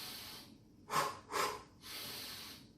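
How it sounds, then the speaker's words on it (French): Rhythmic diaphragm breathing paced to running steps: two short, sharp nasal breaths in quick succession, then a longer, softer exhale, close and clear with no talk. "Et vous rythmez cette respiration avec les pas."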